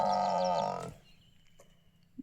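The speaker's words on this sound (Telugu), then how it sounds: "బర్రెలు కూడా ఉన్నాయి ఇక్కడ." A buffalo in a rural village near a paved road lets out one loud, close, drawn-out moo lasting under a second, cutting off abruptly into quiet outdoor background with a faint click near the end.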